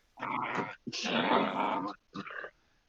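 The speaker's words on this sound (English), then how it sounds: "What is that noise I'm hearing? There's a dog. It's my dog." A pet dog growls in three rough, throaty bursts, the middle one longest, close and fairly clear with short silences between and no talk.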